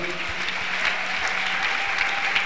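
A church congregation applauds during a service, a steady wash of clapping from many hands at a fairly loud, even level, with no voices over it.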